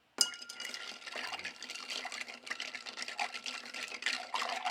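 A cocktail is poured back into a mixing glass, a steady trickle of liquid with faint glassy clinks running throughout, fairly quiet and close, with no voices.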